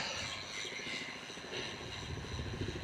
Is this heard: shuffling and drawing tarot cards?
no